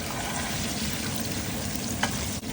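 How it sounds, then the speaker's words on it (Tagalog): Hot oil spatters and crackles as aromatics sauté for a Filipino chicken curry, a dense continuous sizzle with one sharper pop near the end, close and loud with no talking. "mainit ang mantika. Kaya tumatasik-tasik po yan."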